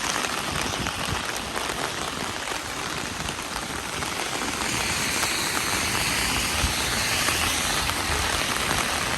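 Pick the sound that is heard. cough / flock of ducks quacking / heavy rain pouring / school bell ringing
heavy rain pouring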